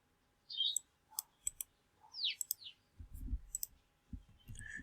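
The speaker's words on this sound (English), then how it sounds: "I'm going to type in this password" Sparse, close clicks of keys pressed on a computer keyboard while typing a password, a handful of quick taps in small bursts with short pauses, quiet room, no speech.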